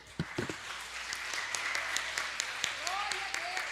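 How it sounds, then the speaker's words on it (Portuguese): A church congregation gives applause, scattered individual claps sounding close and sharp over a steady crowd murmur, with voices speaking and calling out alongside. "Esse Deus merece um aplauso."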